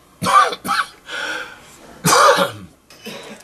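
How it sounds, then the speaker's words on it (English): A person coughs in harsh, close bursts: a quick double cough near the start, a pause with breathy throat noise, then a louder cough and a fainter trailing one. "whenever you make me laugh, then you make me cough"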